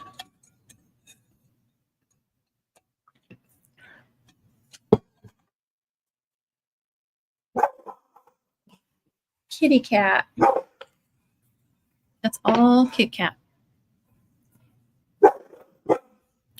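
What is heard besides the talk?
dog barking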